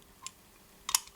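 A camera shutter fires with a couple of quick, crisp mechanical clicks, close and short, one faint click first and then a sharper double snap, with no voices.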